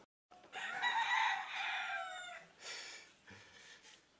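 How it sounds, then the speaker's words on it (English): Rooster crowing loudly and close in the countryside, a long harmonic call followed by a second shorter crow and a few scattered chicken clucks. "goodbye to the sound of the chickens"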